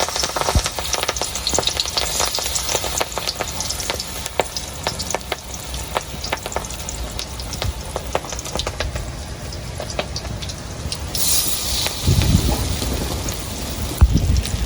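Fritters (bora) frying in hot oil in a village wok, a dense continuous crackling sizzle with scattered pops, heavier bubbling bursts near the end.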